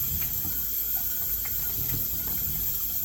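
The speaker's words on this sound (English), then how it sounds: "I'm just going to go ahead and rinse them off" Tap water runs steadily into a kitchen sink as green beans are rinsed, a continuous close hiss and splash with faint clinks and no talking.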